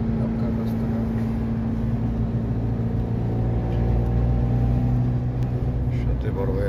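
A car drives along a road in Makkah, heard from inside the cabin as a steady, close engine and road drone with a low, even hum throughout.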